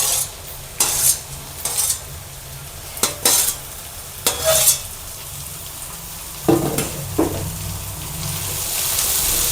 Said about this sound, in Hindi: और इन्हें भी भून लेते हैं।